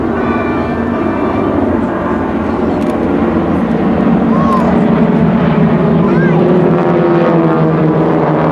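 At the 2010 Westfield International Airshow, Geico Skytypers airplanes drone steadily overhead in formation, a constant loud engine hum beneath a public-address announcer talking throughout.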